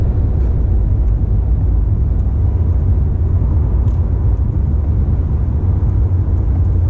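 A C8 Corvette cruises down a winter road, its low, steady rumble of engine and tire noise holding an even level throughout with no voices.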